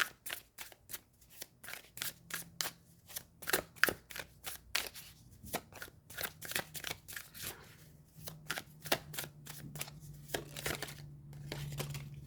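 Oracle cards are shuffled by hand, quick crisp riffles repeating in a fast irregular rhythm, close and alone without any speech.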